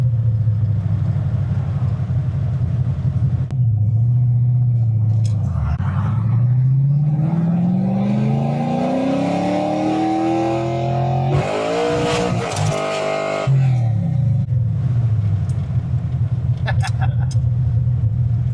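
A Ford car running on E85 drives a bumpy road, its engine droning steadily, then revving up through a long climbing pull before easing back, heard from inside the car with a thump partway through and some talk.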